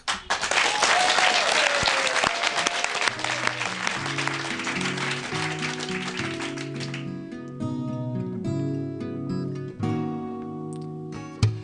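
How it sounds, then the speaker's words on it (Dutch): Audience applause for a band at a Frisian Top 100 music event, loud dense clapping for about seven seconds that fades out as the band's song begins, with sustained musical tones taking over. "Jou een hartelijk applaus."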